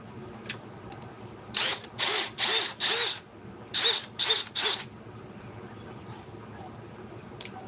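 A power drill whines through pilot holes in seven short, loud bursts: four in quick succession, a brief pause, then three more, with quiet in between.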